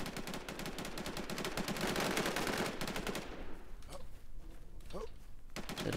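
Dense, rapid automatic gunfire from players shooting in the online shooter Infestation: World rattles continuously for about three seconds, then thins into a few scattered shots and quieter game noise, with a voice talking faintly underneath.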